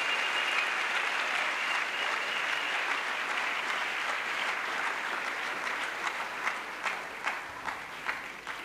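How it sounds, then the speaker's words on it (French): A church congregation applauding during a crusade service: dense, sustained clapping from a large crowd, loud and steady, with individual claps standing out more clearly as it thins near the end. "Let's clap to Jesus."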